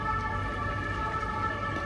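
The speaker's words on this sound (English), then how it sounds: "There's also always lots of sirens." Steady emergency vehicle siren tones hold on sustained pitches over a continuous low rumble of Paris street noise, loud and unbroken throughout.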